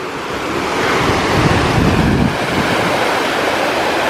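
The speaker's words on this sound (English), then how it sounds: "you got this creek that runs down past camp" A mountain creek in New Zealand's Canterbury high country running past a camp, a loud, continuous rush of water with steady broadband roar and some wind buffeting, no voices.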